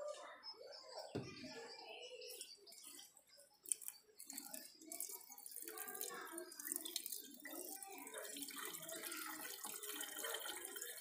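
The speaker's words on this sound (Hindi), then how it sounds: "इसके साथ पानी डाल देंगे।" Water poured into the windscreen washer reservoir of a Ford EcoSport facelift during a service, mixed with washer shampoo, a steady close trickling and splashing that continues throughout with faint background chirps.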